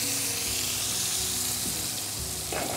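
Food sizzles steadily in a nonstick frying pan during a Bengali cooking programme, a dense continuous hiss with faint scraping near the end, heard close and without talk.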